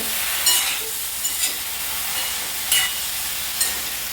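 Bitter gourd slices with spice mix stir-frying in a pan over low heat, a soft steady sizzle with a few brief scraping stirs of the spatula, close and without talk.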